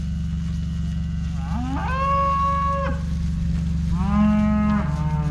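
Cattle, a heifer and steers, moo in two long, clear calls, the first a rising, drawn-out low, the second shorter, close by over a constant low rumble.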